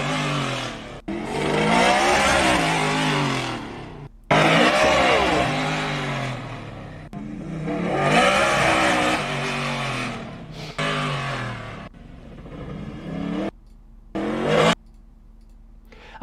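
Custom-built truck by Jimmy Bullard of MRC Fab, fitted with Mittler Brothers hydro shocks, its engine revving loudly in several long rising bursts separated by short pauses, then fading to a quieter idle.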